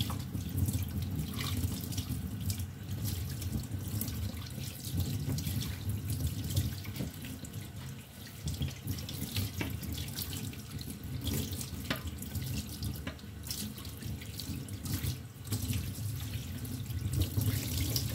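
Steady running tap water splashing into a sink, continuous and close, with a few faint clinks in the background.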